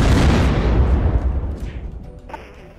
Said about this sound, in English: the SWAT officer died from that explosion